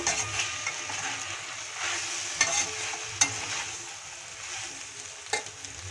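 Pasta and tomato sauce for a chicken pasta dish being mixed in a pan: a steady, close sizzling hiss runs throughout, broken by a few sharp utensil clicks, with no one talking.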